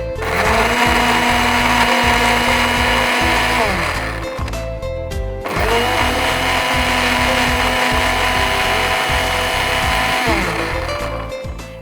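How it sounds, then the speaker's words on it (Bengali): A blender making juice whirs loudly and steadily, stopping briefly midway before restarting and running on at full power. "ব্লেন্ডারটা আমি অন করে দিচ্ছি"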